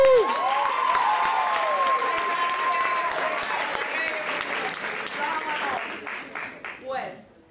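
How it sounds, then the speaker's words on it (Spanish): Studio audience at a comedy show applauding loudly and steadily, with a few whoops over the clapping, fading out near the end. "Así que un poquito de aplauso todavía."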